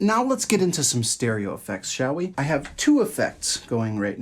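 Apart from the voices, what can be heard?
None of the usual background noises is heard.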